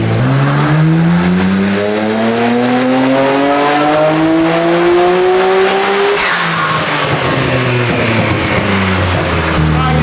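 A tuned street car engine revs hard through a full power pull making about 735 horsepower, rising in pitch over several seconds, then dropping off and settling, loud and close with no talk.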